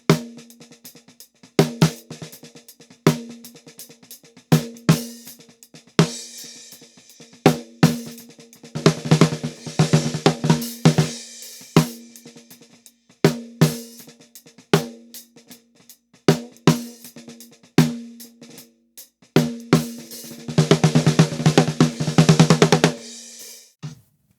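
Snare drum close-miked with a Shure SM57, sharp dry hits in a steady groove, played alone at first and then with bursts of fast rolls and cymbal wash, loud and close.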